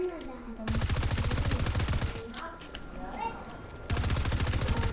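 Two long bursts of rapid automatic gunfire from the Fortnite video game, loud and sharply rattling, separated by a short pause where chatty voices and game sounds come through.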